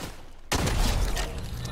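A single heavy gunshot from a slow-firing gun in Fortnite zero build, one sharp loud blast breaking the quiet, followed by a long rumbling tail and faint mechanical clatter.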